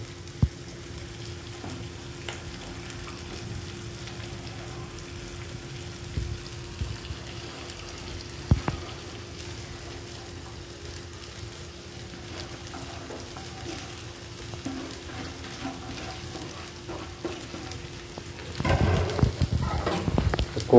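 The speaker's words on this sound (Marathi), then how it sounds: "तर आपण जो कोबू कापून घेतला आहे तो टाकायचा आहे त्यात" Chopped cabbage frying in a pan with turmeric, a soft steady sizzle with occasional light clatter, swelling into louder stirring and frying noise near the end.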